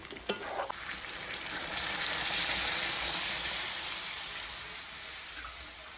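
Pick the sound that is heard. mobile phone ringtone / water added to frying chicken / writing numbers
water added to frying chicken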